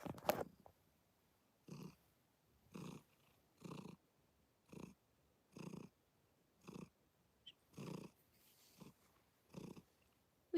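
A cat purrs close to the microphone in a quiet room, the soft rumbling coming in steady, evenly spaced breaths, each about a second long with short pauses between.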